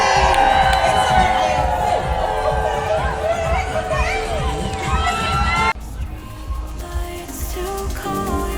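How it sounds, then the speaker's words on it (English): A crowd at a birthday celebration on board the Adventure of the Seas cruise ship cheers, whoops and shouts loudly, with children's voices prominent, before the noise settles into lower chatter. "Make some noise for Energizer Bunny Ellie!"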